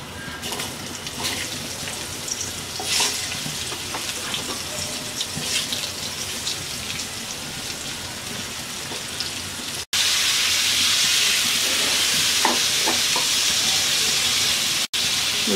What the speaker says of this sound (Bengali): এবার আমরা কাঁকরোলগুলো দিয়ে দিচ্ছি।